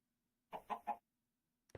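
Minecraft chicken in StoneBlock 4 gives three quick, close clucks in a row, then a brief cluck-like blip after a pause, against near silence.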